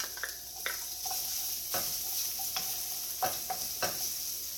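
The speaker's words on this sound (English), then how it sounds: "So I'm going to add the garlic with the shallots." Garlic and shallots sizzle steadily in hot oil in a pan for a stuffed zucchini dish, with several sharp scraping stirs of a utensil breaking through the continuous frying hiss.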